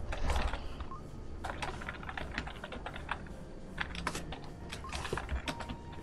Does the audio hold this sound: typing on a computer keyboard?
yes